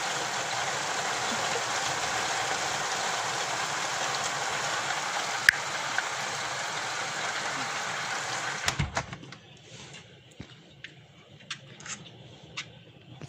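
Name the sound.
heavy rain pouring outside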